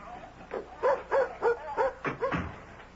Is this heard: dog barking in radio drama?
yes